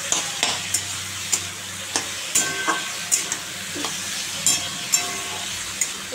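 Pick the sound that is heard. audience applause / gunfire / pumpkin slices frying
pumpkin slices frying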